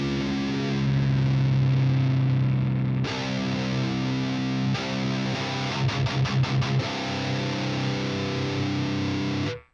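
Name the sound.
electric guitar played through a distortion effect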